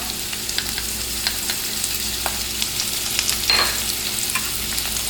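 Onions and garlic fry in oil in a pot, giving a steady close sizzle with scattered crackles and pops and occasional stirring scrapes, with no talking.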